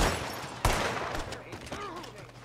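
Scattered gunfire in the video game Red Dead Redemption 2 during a fight in Saint Denis: one sharp close shot among fainter rapid shots, with voices calling out underneath.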